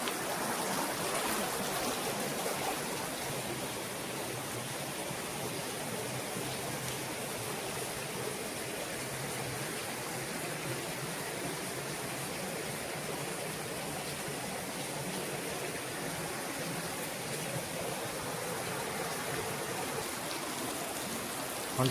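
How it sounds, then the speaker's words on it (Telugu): Water of Penchalakona waterfall rushes between hill rocks, a steady broadband roar like heavy rain that holds evenly throughout, close and fairly loud with no voices. "ఈ కొండ రాళ్ళ మధ్యలోంచి నీరు ఊరి బయటకు వస్తున్నట్టు వాటర్ ఇది."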